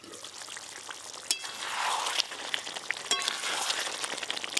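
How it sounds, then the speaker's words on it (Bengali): Potato curry bubbles over low heat in a pan, a soft close crackling simmer with occasional sharper pops and light stirring, no talking. "দেখুন অল্প আঁচে কি সুন্দর গুনগুন করে ফুটছে।"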